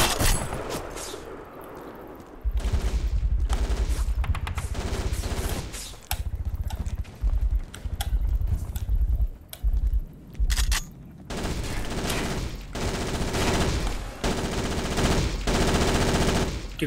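Gunfire from above on Graznei Bridge in a combat video game, rapid machine-gun bursts cracking loud and close in repeated volleys with short gaps, then steadier sustained fire toward the end.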